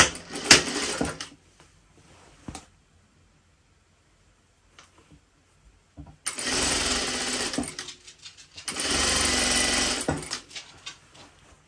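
An overlocker runs in bursts while sewing the side seam of a pair of pants: a short opening run, a long quiet gap with faint clicks, then two loud sustained whirring passes close by.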